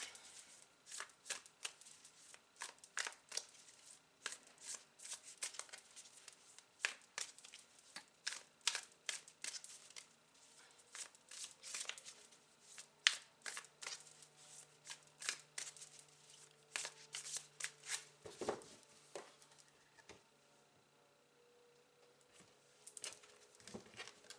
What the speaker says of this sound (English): let me grab my tarot deck to clarify those cards